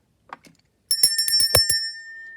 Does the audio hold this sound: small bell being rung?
yes